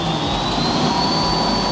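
An electric fire truck's water pump spins up while circulating water in preset mode, giving a steady, loud jet-engine-like whine with a high tone running throughout and no talk over it.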